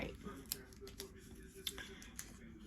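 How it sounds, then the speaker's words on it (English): Scissors snipping through craft vinyl for a Cricut project, several sharp quiet clicks and slicing snips spaced irregularly, close up and faint against a low room background. "my scissors works just fine"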